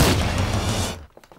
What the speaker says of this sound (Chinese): 沈科长，沈科长，别跑，再跑开枪了！